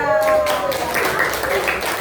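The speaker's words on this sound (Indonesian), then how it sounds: "kita berikan tepuk tangan untuk Winda" Pupils in a classroom clap briefly for a classmate during a lesson on sound, a short, loose burst of hand claps that follows a teacher's voice.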